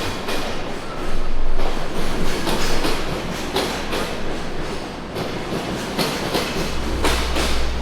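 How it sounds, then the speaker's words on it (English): A loud train rushes through a station in Hiroshima nearby, with steady rumbling and repeated clickety-clack beats from the wheels over the rails, no voices. "That's very loud, that train."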